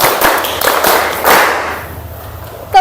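A classroom of students performs a rhythmic clapping ice-breaker, a run of sharp, close claps with a few louder thumps, then it trails off near the end.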